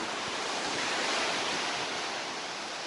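Stormy sea surf breaking at the shore in Zelenogradsk, a dense, continuous roar of rough waves mixed with strong wind buffeting the microphone, loud and steady with no voices.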